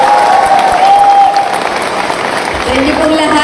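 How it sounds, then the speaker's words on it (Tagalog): A crowd applauds at a political campaign gathering in Barangay Diversion in the Philippines, a loud, dense wash of clapping that holds steady for a few seconds and then eases slightly, with a voice over the amplified sound. "palakpak naman dyan"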